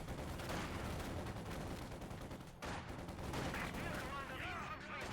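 Rapid machine gun bursts amid scattered gunfire and explosions in the Company of Heroes 2 war strategy game, faint and dense under the battle noise.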